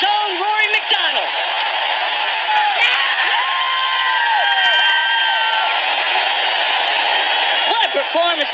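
A stadium crowd of 55,000 at a UFC fight roars and cheers continuously, a dense loud wash of voices with whoops, while a commentator talks over it.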